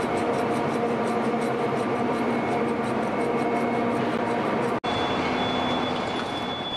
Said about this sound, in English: the workers operate machines on each side to lift the carriages at the same time